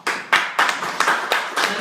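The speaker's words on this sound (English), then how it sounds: "That's the applause." A small audience at a Republican candidate forum claps in short, choppy bursts, moderately close, with no talking.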